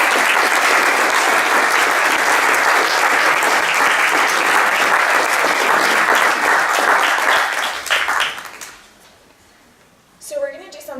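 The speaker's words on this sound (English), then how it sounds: "we can give you a little round of applause" An audience at a university awards ceremony gives a loud, sustained round of applause for the undergraduate library prize committee, holding steady for about eight seconds before dying away, with a voice starting to speak afterward.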